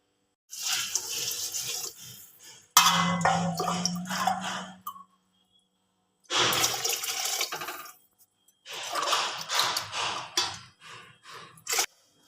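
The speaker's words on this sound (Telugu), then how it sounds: "ఇప్పుడు ఇందులో వాటర్ వేసుకుని ఒక గ్లాసు రైస్కి రెండు గ్లాసులు వాటర్ అయితే వేసుకుంటాను" Water poured over washed rice in a pot for tomato rice, heard as several close bursts of splashing, gurgling flow separated by short pauses, with no talking.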